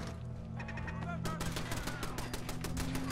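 Automatic turret gunfire in the video game Fallout 4: rapid, sharp bursts of shots crackle densely from about a second in, layered over a continuous low game hum.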